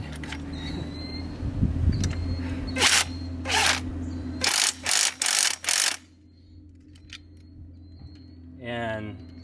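A power tool tightens the six bolts holding a trolling plate's mounting plate to its clamp-on kit, sounding in a series of short, loud mechanical bursts, several quick ones in a row, with a faint voice near the end.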